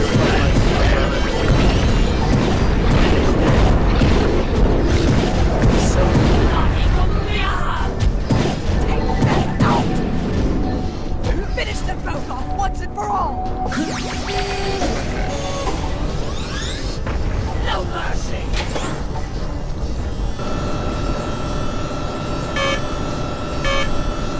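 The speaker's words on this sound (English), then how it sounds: "Jump too early and come back down for the explosion there." Explosions and crashing impacts rumble through a Jak & Daxter boss fight, a dense, loud stretch of booms, debris and game effects that gradually thins out into lighter mechanical sounds and tones near the end.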